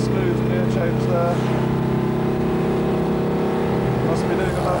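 Citroen 2CV race car with a 35 horsepower engine pulling hard down a circuit's main straight, a steady buzzing engine note heard from inside, with a voice talking over it.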